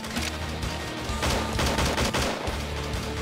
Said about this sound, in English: She's shooting out stale cookies.